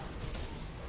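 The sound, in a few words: gunfire in the video game Singularity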